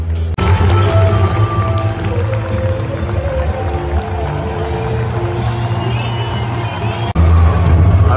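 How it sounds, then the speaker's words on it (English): A crowd cheers and roars throughout at a Florida Panthers hockey game in an arena, loud and sustained, with a brief dip near the end before the noise swells again. "This crowd is into it, and I love it."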